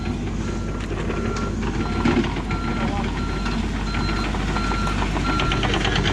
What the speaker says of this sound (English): here comes a big front end loader